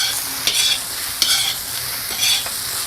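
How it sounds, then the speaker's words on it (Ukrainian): Mushrooms frying in oil in a pan, a steady close sizzle broken by a few scraping stirs of a utensil, with no voices. "Грибочки шкварчать"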